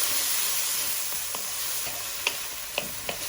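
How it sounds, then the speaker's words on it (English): Vegetables sautéing for prawn fried rice, a close, even sizzle that holds steady throughout with a few light clicks of a utensil near the end. "Just gonna allow this to saute for a bit."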